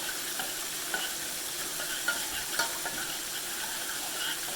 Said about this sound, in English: And just start stirring it together.